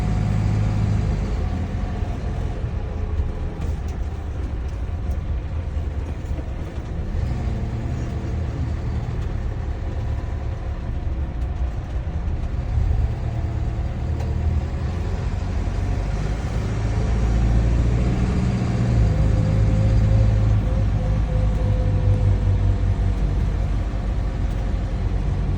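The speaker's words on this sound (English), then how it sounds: "Now I'm going to turn the bus around and we'll do a student drop-off." A school bus turning around on its route, its medium engine rumbling low and steady for the whole stretch with a slight swell in effort toward the end, close and continuous, with no talk.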